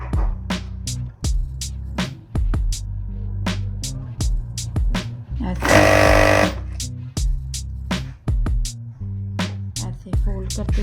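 A sewing machine stitching the folded half-inch hem of capri pants, bursts of rapid rhythmic clatter that start and stop repeatedly, with one longer, louder run midway, close up and with no talking.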